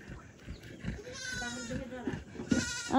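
A goat on a small family farm in Nepal gives a couple of close, wavering bleats amid background voices and farmyard bustle.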